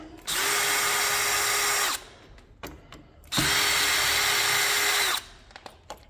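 A power drill backs out two screws from a Harmony window tilt latch in two loud, close whirring bursts of about two seconds each, with small clicks and handling noises between them.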